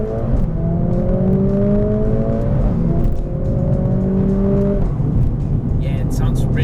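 A Mercedes A45S AMG engine revs steadily and loudly on hairpin bends, its pitch rising and falling through gear changes, with a voice briefly speaking at the end.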